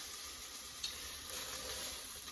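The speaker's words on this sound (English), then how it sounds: "Ooh, sizzle, sizzle. Yeah, that's what I like to hear." Soft, steady sizzling of sweet potato and chorizo frying in a pan, a constant crackly hiss with occasional small pops, close and fairly quiet.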